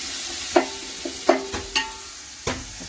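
Green chili, ginger and garlic paste sautéing in a pan, with a few separate scraping stirs over a low sizzle, close and fairly quiet.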